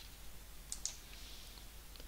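Soft computer mouse clicks, two sharp taps close together, followed by faint keyboard typing against a quiet hiss of room noise.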